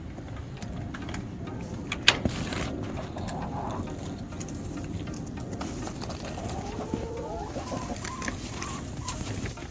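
Backyard chickens cluck and murmur inside a winterized coop, soft bird calls rising and falling over a constant low rumble, with no talking.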